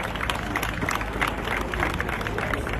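Outdoor crowd at an NYSC camp parade in Lagos giving a round of applause, a busy, fairly distant patter of many hands clapping with crowd noise, steady throughout.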